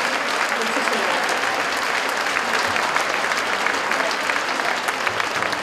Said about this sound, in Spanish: pido un aplauso otra vez, ¿vale? Muy fuerte para él.